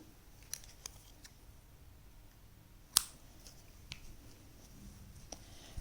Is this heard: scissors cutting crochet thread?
yes